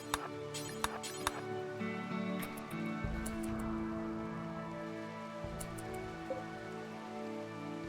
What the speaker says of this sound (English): It's raining on them.